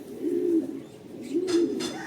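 A racing pigeon coos twice at its backyard loft on return from a race. The coos are soft, low and close, and the surroundings are otherwise quiet.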